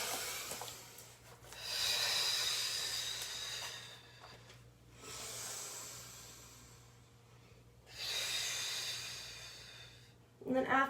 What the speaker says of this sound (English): So let's just take 2 more big rounds of breath.